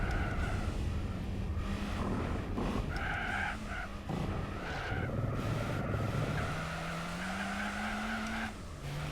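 An Audi TT races in Gran Turismo 4, its engine note rising and shifting through gears while tires squeal and skid through corners, loud and continuous with no talk.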